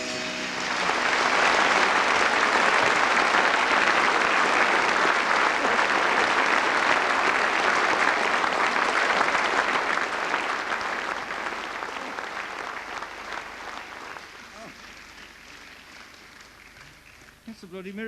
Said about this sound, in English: Thank you very much for your kind applause for that item.